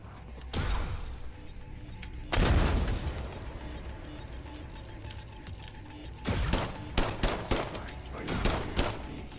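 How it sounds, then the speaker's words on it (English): Gunfire and a grenade explosion in the System Shock demo: a heavy boom near the start, a loud blast burst, then rapid clusters of sharp shots toward the end, with mechanical game ambience between. "I'm going to attempt to shoot them and then frag them with a grenade once they wake up."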